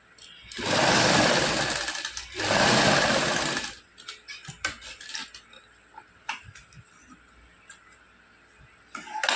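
A sewing machine runs a stitch along a shirt seam in two sustained bursts of close, whirring motor noise, followed by softer clicks and fabric handling.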